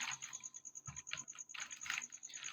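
Quick, soft keystrokes on a computer keyboard while typing a command, an irregular patter of light clicks with a faint steady tone in the background.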